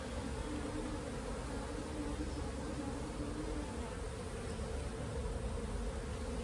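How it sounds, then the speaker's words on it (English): A honey bee swarm hums in a dense, steady drone, loud and continuous throughout, with the buzz of many bees blending into an even wash of sound as they settle into a box. "Come on, bees, in the box."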